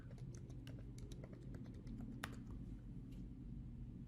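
Quiet, close tapping on a computer keyboard, with irregular key presses in a short burst and one sharper keystroke partway through.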